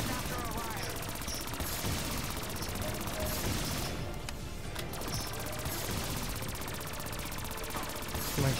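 Dense, continuous gunfire from a video game boss fight, steady and loud throughout with players talking over it.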